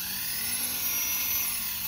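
Starter motor of a 2008 Pontiac Torrent spinning freely on direct battery current, a steady high whirring whine held evenly and close throughout, with no voices.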